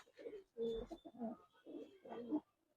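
Soft, low cooing from flying-breed pigeons close by, a few rolling coos in a quiet setting, with a voice murmuring faintly.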